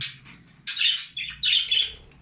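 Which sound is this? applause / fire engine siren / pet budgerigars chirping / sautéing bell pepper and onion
pet budgerigars chirping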